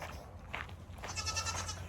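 Goats bleat a few times outdoors, quiet and fairly close, with short wavering cries over a low background hum.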